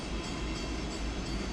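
A freight train of center beam cars on the PanAm Railways line at Ballardvale, passing close by as a steady, loud rumble and roar of rolling wheels with no breaks.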